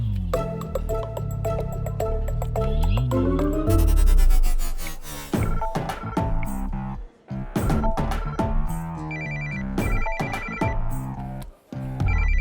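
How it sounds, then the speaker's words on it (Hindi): A telephone rings repeatedly over loud background music, the bright electronic ring tone recurring in bursts near the end. "पापा किसका फोन है?"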